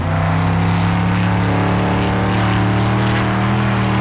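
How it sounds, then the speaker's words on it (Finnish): A racing car engine in the video game Wreckfest hums with a steady, loud, tonal drone, sounding close behind the player. "Se kuulostaa koko ajan siltä, että mun niinku selän takana on auto"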